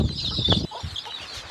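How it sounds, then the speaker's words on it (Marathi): A rooster, newly brought from a friend's place, clucks in a couple of short close calls, followed by quieter, softer sounds nearby. "असा आहे कोंबडा."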